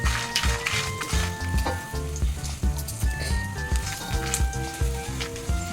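Shallots dry roasting in a pan with dried prawns crackle and sizzle close up, with a steady rhythmic series of spatula scrapes and taps against the pan and no talking.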